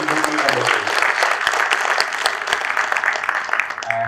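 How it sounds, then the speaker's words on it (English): A big round of applause from the audience at a conference session for industry members, a dense, sustained burst of many hands clapping that stays loud and even, with some voices underneath. "I'll request for a really big round of applause for all the industry members."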